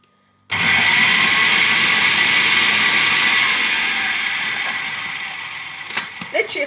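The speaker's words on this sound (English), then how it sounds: "Literally a quick whisk." An electric whisk starts abruptly and runs as a loud, steady whirring drone for several seconds, close by and gradually easing in level, with a few small clatters near the end.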